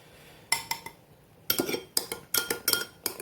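A metal spoon clinks and scrapes against a pan while scooping up sauce for a meatloaf, a few sharp separate taps followed by a quicker run of clatters, close and clear, with no talking.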